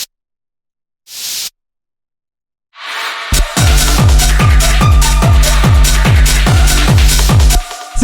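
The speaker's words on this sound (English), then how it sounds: "And then we have these little noise sweeps." A short burst of white noise sweep, then a loud repeating hard distorted rave techno beat with layered noise sweeps swelling over it in a steady rhythm.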